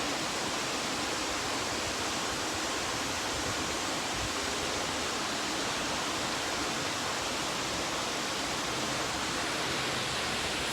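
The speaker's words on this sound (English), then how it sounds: "I am here at the beautiful, beautiful Trevi fountain." Water splashing and rushing steadily at the Trevi Fountain in Rome, a dense continuous wash of spray close by with no pauses and no voices over it.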